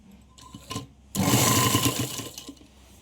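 A sewing machine stitches a cloth waistband onto a silk skirt: a short burst of needle chatter, then a steady, close mechanical whirr lasting over a second before it stops, with no talk.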